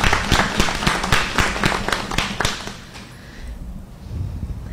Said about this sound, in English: So I'd like to give them a round of applause once again,